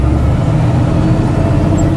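Heavy rock truck engine droning steadily in sixth gear over bumpy ground, a loud, continuous low rumble with no pauses.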